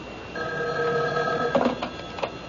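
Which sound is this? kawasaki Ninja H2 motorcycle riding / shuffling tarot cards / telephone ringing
telephone ringing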